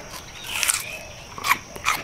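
Crunchy bites into raw, wet yacon root, three close crisp crunches spaced across two seconds, with no talking.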